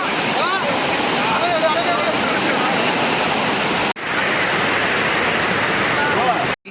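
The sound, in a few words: waterfall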